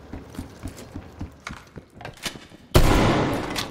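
Gunfire in Call of Duty: Cold War, a run of sharp rapid shots followed by a sudden loud burst that trails off, close and with no talking.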